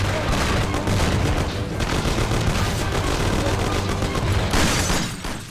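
Sustained gunfire during a gang shootout in the Mafia video game, dense rapid bursts and crackling volleys filling the clip, loud and continuous with a brief lull near the end.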